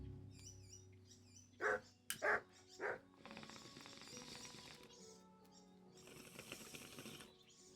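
A dog in the medieval video game Kingdom Come: Deliverance lets out three loud, close barks in quick succession, followed by soft rustling and low ambient game sound.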